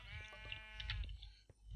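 Sheep on a farm in the video game Minecraft give a single wavering bleat, close and fairly clear over a low background hum, with no talking.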